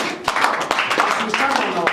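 Church congregation clapping during a branch's tenth-anniversary celebration service, scattered sharp claps rising into a fuller round, mixed under a speaking voice and indoor chatter.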